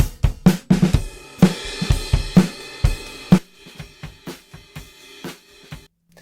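A drum kit captured through a smartphone microphone: a loud, close groove of kick, snare and cymbal hits that loses its low body partway through and carries on thinner, with no voices.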